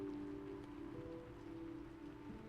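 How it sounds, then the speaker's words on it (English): Heavy rain pounding on a car's metal roof, a steady dense roar with a low droning hum underneath, loud and continuous throughout with no voices. "The rain was pounding down on metal, demanding entrance."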